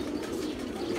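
A pigeon cooing close by, a brief low, throaty coo that lasts about a second.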